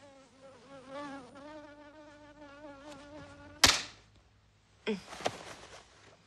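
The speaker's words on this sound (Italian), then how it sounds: "Una zanzara." A mosquito whines close by in a steady, wavering high buzz for several seconds, then gives way to a sharp slap and some rustling.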